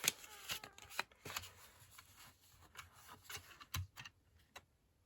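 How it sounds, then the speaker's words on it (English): A paper trimmer slices through a cardboard toilet-roll cover for a small handmade journal, giving several close, brief scraping and clicking strokes with short pauses between them and no talking. "used my trimmer"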